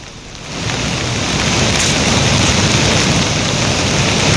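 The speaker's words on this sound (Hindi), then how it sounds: "रुद्रप्रयाग में बार बार तेज बारिश हो रही है" Heavy rain pours down in Rudraprayag, a loud, dense, continuous roar of downpour that builds in the first second and then holds steady throughout.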